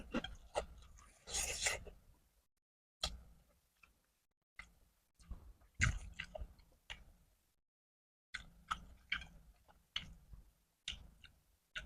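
Crunchy kikil, beef skin eaten with nasi padang, crackles in a string of close, crisp bites and chews, broken by brief silent pauses.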